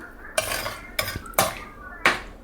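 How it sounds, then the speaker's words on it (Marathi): Spoon scraping and clinking against a pan and plate while bitter gourd curry is served, four distinct metallic scrapes close up with no talk. "चला आपण प्लेटमध्ये काढून घेऊया आता."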